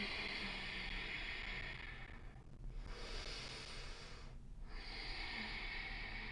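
Slow, steady breathing through the nose during a yoga pose in a vinyasa flow, two long audible breath cycles, soft and close with a faint hiss, no talking.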